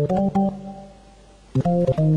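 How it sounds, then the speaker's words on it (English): A Hammond organ set to its three lowest drawbars, the 16, 5 1/3 and 8 foot, plays a short run of full, sustained chords in two bursts separated by a brief pause, clear and alone. "It's the 16, the 5 1/3, and the 8-foot drawbars"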